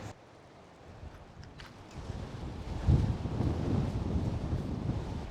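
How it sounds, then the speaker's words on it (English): Strong wind gusts across the Mojave Desert beside an abandoned Route 66 building, a low roaring rush against the microphone that builds from moderate to louder and steadier over several seconds, with no talking. "It is so windy."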